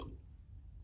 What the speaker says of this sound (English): Hiccups has taken over, guys.